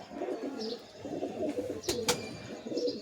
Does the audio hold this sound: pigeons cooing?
yes